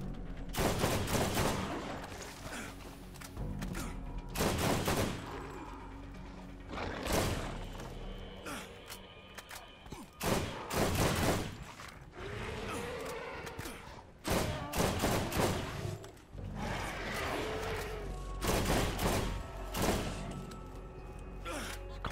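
Combat rifle fire in the shooter game Borderlands comes in repeated bursts of sharp, loud cracks spread across the span, with quieter gaps between volleys and faint breaths in the background.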